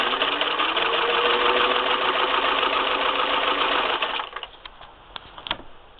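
Singer 15-91 sewing machine running a straight stitch, a steady fast mechanical whir and clatter that stops abruptly near the end, followed by a few faint clicks and handling noises.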